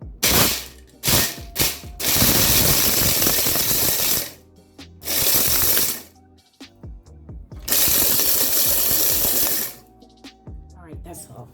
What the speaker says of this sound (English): So now I'm gonna crush the Jolly Ranchers.